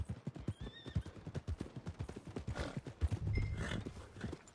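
In the Red Dead Redemption 2 video game, a horse whinnies while its hooves clop steadily at a walk, close and moderately quiet with no speech.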